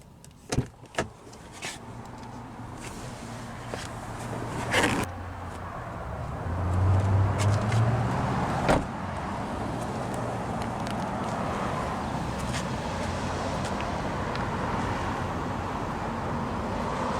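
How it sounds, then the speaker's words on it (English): A 2019 Chevrolet Silverado 1500 LTZ Crew Cab Z71 with a fully powered tailgate, a steady motorized whir with a few clunks and latch clicks near the start, close and moderate, without talk. "does have a fully powered tailgate."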